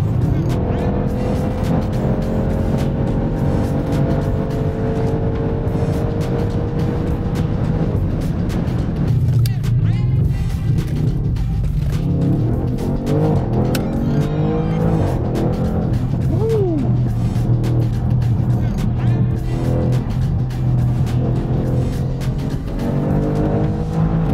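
Audi RS6 C7 on wet asphalt accelerating at full throttle, a loud continuous engine roar with rising pitch sweeps and brief shift dips heard from inside the car, with road and tire noise throughout.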